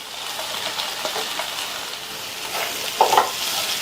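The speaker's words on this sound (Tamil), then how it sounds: "இந்த மசாலாலையே முள்ளங்கியை 2லேருந்து 3 நிமிஷத்துக்கு நல்லா சிம்மில் வச்சு வதக்கி விட்டுக்கோங்க." Thin round radish slices are sautéed in masala in a pan, giving a soft continuous sizzle with gentle stirring scrapes and a brief louder clatter near the end, with no talk.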